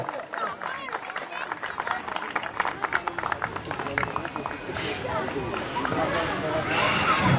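An audience at a community event applauds to welcome a speaker to the microphone, a moderate spread of many hands clapping that swells toward the end, with some voices mixed in.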